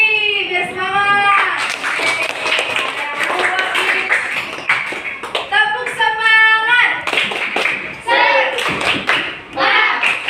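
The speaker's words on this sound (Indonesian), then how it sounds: "Tepuk tangan lagi biar semangat." Schoolchildren in a fifth-grade classroom clap in a loud, sustained burst of rhythmic hand claps lasting several seconds, with voices mixed in throughout.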